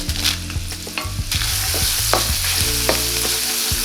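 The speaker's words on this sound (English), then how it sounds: "In your pan, throw in a hefty amount of oil, followed by minced garlic and ginger, as well as a bunch of dried chilies." Minced garlic, ginger and dried chilies fry loudly in a hefty amount of hot oil in a pan for General Tso's chicken, a constant close sizzle broken by scraping stirs and clinks of the utensil.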